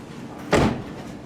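A rear-hinged suicide door on a 2006 Toyota Tundra pickup shuts with a single solid thud, short and close, over quiet outdoor background noise.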